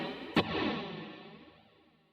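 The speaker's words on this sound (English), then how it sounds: "That gives it almost like a reverse reverb sound" An OBNE Screen Violence effects pedal produces a reverse-reverb sound in which a sharp attack is followed after a short delay by a swelling, distorted wash that slowly fades out.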